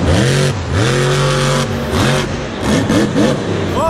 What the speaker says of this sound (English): going for a donut, a really good donut right there